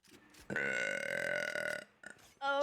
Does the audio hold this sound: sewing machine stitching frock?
no